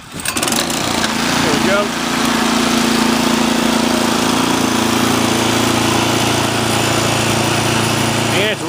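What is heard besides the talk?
snow blower engine starting and running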